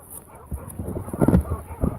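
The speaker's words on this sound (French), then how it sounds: "alors là il y a une meute de chiens qui arrive vers moi" A pack of dogs in high mountain pastures along a hiking trail, giving several short, uneven barks and yips at moderate distance, growing somewhat louder toward the end over a steady wind hiss.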